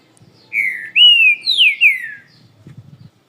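A green-winged saltator sings close and loud, several rich, sliding whistled notes linked into one phrase, followed by brief faint murmuring.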